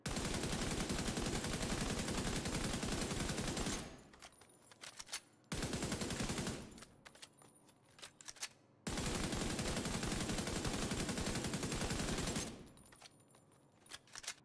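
FAL rifle gunfire in the Division 2 video game, three long, dense automatic bursts separated by brief pauses with scattered echoing shots and clatter, loud and continuous with no talking.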